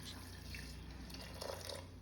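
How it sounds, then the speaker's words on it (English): Tamarind being washed in water under a running tap, a faint, steady trickle and splash of water in a kitchen sink with no talking. "That's why we have to wash the tamarind."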